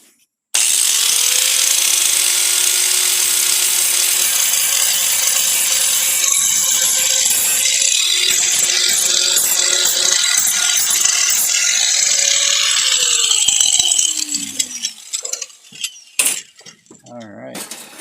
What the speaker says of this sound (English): Need to take a little bit of the spot weld off.